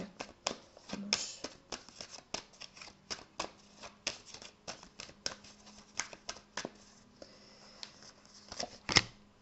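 Playing cards handled and shuffled at a table during a card reading, a run of crisp riffles and flicks, close and fairly quiet, with no one talking.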